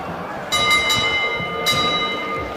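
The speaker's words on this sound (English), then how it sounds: "There goes the bell for the end of round one." A boxing ring bell clangs twice to end round one at a fight night in the Bukom Boxing Arena, two sharp metallic strikes with ringing tones over crowd noise.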